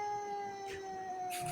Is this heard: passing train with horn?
no